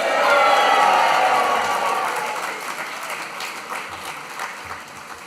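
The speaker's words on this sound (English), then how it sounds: "I want you to give a huge cheer for the class of 2025" Graduates and guests at a 2025 graduation ceremony break into loud crowd applause and cheering, a dense wash of clapping and shouts that swells at the start and then gradually tapers off.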